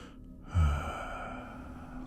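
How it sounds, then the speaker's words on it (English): A single close breath swells and fades like a soft sigh, then trails off over a faint steady background hum. "Like someone breathing just slightly out of sync with you."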